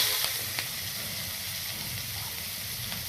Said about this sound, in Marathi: हे सगळं छानपैकी फ्राय करून घेणार आहोत